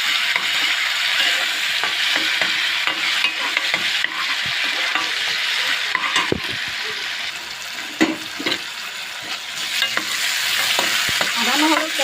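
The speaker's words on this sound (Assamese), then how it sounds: "আদা নহৰু কেঁচা গোন্ধখিনি নোযোৱালৈকে অলপ ভালকৈ ভাজি লৈছোঁ" Ginger-garlic paste and onions sizzle and fry in a pan while a spoon stirs and scrapes steadily, with occasional sharper clinks over a constant hiss, close and fairly loud.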